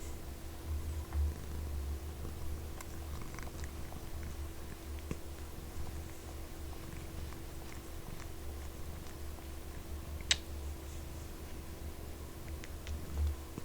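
A pet cat purrs close by in a steady, low, continuous rumble that runs unbroken the whole time, with small clicks and shuffles on top.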